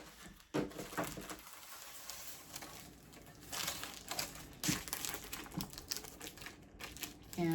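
Thin cellophane pouch crinkling as a piece of artwork is slid inside, giving close, irregular crackles and soft rustling bursts with brief pauses, no talking.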